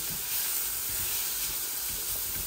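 Onions frying in a little oil in a pan over a gas flame, a steady close sizzle and hiss throughout with no voices.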